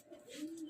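A Johnson pigeon hen coos softly in a brief, low, rounded call that swells and sustains near the end, close and fairly quiet.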